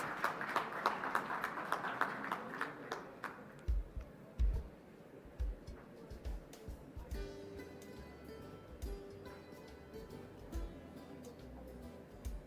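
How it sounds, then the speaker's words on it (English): An audience at a national management convention bursts into applause, dense clapping at first that thins into scattered individual claps over several seconds. "Please welcome them with a huge round of applause."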